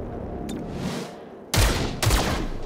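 Gunfire in the XCOM: Chimera Squad video game as the squad shoots at a guardian, two loud, close bursts of shots following a quieter stretch of game ambience.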